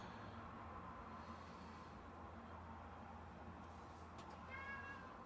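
A domestic cat meows a few times near the end, over a steady low broadband hum and indoor background noise.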